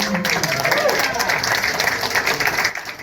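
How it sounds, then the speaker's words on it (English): Audience applause fills a Hollywood Museum event honoring Roy Rogers and Dale Evans, a steady wash of many hands clapping at even loudness throughout, tapering slightly at the very end. "let's give a round of applause"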